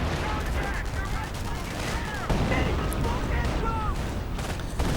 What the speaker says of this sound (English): Artillery getting called in on the MG and the bike, forcing them forwards.